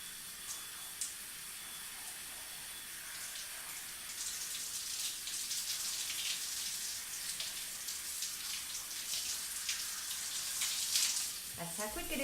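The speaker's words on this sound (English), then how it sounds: "So now we're going to rinse again." Water runs steadily while hair is rinsed, a soft hiss that swells and grows busier partway through as the flow splashes over hair, with a brief clatter near the end.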